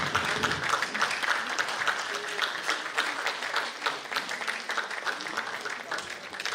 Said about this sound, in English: I think we can give a round of applause by standing ovation.